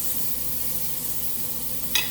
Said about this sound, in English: as my bacon's frying, I just kind of keep pulling the pieces out and moving them around